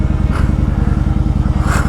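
A motorcycle engine idles close by with a loud, rapid, even low thump, pulsing steadily with a couple of brief rises in pitch.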